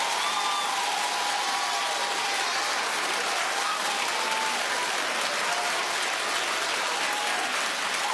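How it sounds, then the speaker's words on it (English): A studio audience at a daytime TV talk show claps in dense, continuous applause for several seconds at an even loudness, with a few faint voices mixed in. "Clap if you jaywalk."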